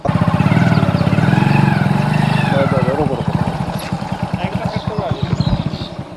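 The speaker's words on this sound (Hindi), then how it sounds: "अब हम लोग फिलहाल यहीं पर मौजूद एक शख्स की मोटरसाइकिल से गांव के अंदर जाने का हम प्रयास कर रहे हैं।" A motorcycle carries riders into a village in West Bengal, its engine putting and revving close by with a steady pulsing rhythm while a person talks over the noise throughout.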